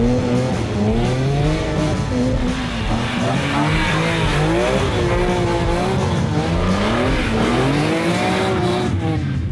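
A BMW M3 E46 engine revs hard while the car slides across grass. The loud, continuous engine note rises and falls in quick waves with a rough tire and surface rumble beneath, and no talking.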